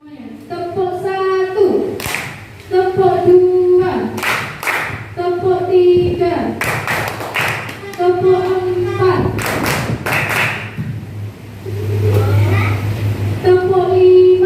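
A classroom group claps a rhythmic chant pattern in repeated bursts of sharp, loud hand claps separated by children's voices and talk.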